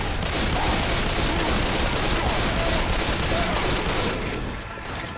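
Sustained gunfire while shooting a Smoker zombie in the video game Left 4 Dead 2, a dense, loud and continuous burst of shots lasting throughout, easing slightly near the end, with no talk over it.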